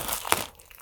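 Plastic packaging of a Funko Pocket Pop Star Wars four-pack crinkles briefly as it is pulled away, a few sharp close crackles with one louder crunch, then quieter rustling.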